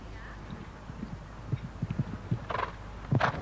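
Hooves of a show jumper thud in an uneven run of beats on a 1993 World Cup qualifier course in Busselton, with a louder scrape and clatter near the end, heard close against a faint arena background.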